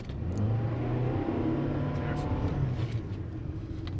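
A Toyota RAV4 Hybrid pulls away hard on a road with traction control switched off and its wheels spinning. A steady mid-pitched engine drone swells under it, and voices talk over it throughout.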